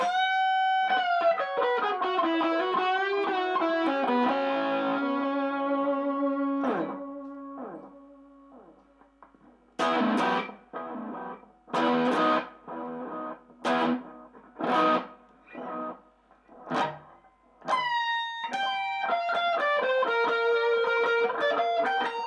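Electric guitar lead played through a Nu X amplifier with delay and reverb: sustained bending notes, then a run of choppy staccato bursts with echo tails, ending in another ringing melodic phrase, loud and alone.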